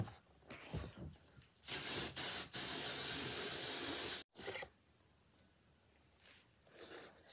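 A loud, steady hiss of temporary fabric adhesive spray (505) in short bursts, about two and a half seconds total, close by with quiet handling noises around it.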